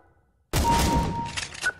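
Gunfire in Counter-Strike Source breaks a near-silence with a sudden loud burst of rapid shots, then tails off into a few quieter reports.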